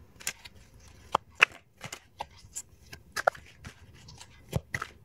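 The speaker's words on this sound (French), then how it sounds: "On va tirer une deuxième carte pour avoir un peu plus de précision." Oracle cards being shuffled and drawn by hand, heard as scattered soft riffles, flicks and taps at an irregular pace, close and fairly quiet.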